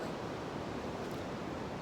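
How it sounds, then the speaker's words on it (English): Ocean waves wash in on the shore as a steady, even rush of surf, fairly faint and continuous, with no voices. "I'm going to sit here and watch the waves come in"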